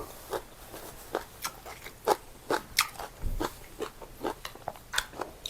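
Fried silkworm pupae from a spicy Thai street-food spread are crunched up close in a series of sharp, irregular bites and chewing crackles, with no talking.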